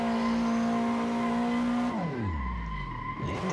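A car drifting in the racing game Assetto Corsa on the Ebisu track, with a loud steady engine drone held high before dropping in pitch as the revs fall, while tires squeal, close and continuous, no talking.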